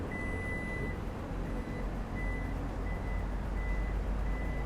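A Toyota Yaris Cross 1.5 hybrid's power tailgate gives single short electronic beeps, repeated steadily over a low continuous hum and background noise.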